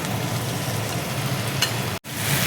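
Small pieces of fish head frying in hot oil, a dense, loud, steady sizzle close by that runs without a break and then cuts out abruptly for an instant near the end.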